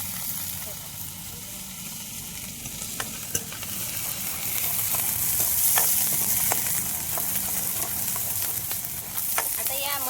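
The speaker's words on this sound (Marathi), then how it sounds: "मसाल्याले मस्त वाटणाले मस्त लाल कलर येपर्यंत परतून घेतो" Ground masala paste sautés in hot oil in a pan, giving a continuous loud sizzle with scattered scraping and stirring clicks close to the listener, and no voices over it.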